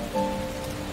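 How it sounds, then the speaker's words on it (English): Gentle rain pattering steadily on surfaces, a soft continuous wash with faint sustained tones through it, calm and even throughout with no voices. "Just relax as you listen to their gentle pitter-patter."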